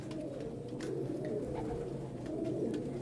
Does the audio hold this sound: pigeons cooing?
yes